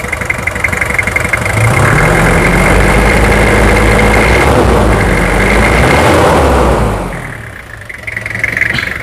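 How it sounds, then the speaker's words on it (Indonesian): A Toyota Kijang Krista diesel from 2003–2004 idles up close, a loud, steady clattering rumble with a brief rise in revs and a dip near the end. "Tak dengarkan suara mesinnya"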